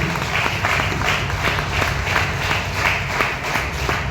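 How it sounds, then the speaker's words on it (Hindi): Audience applause for a speaker on stage, many hands clapping in a loud, steady, slightly rhythmic patter with a low rumble of room noise beneath it, unbroken for several seconds. "मैं चाहूँगा एक बार संदीप भागवत सर के लिए जोरदार ताली"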